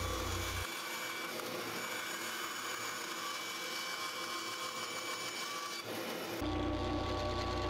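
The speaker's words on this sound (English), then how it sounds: "Then cut to that outside line on the bandsaw." Bandsaw cutting a wooden blank for a chef's knife sheath, a steady broadband whine and rasp running continuously up close, with the motor hum shifting near the end.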